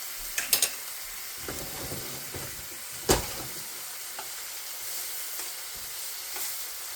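Italian sausages browning in a frying pan give off a steady low sizzle, broken by a few sharp clicks and clatters from turning them, with one louder knock partway through; nobody speaks.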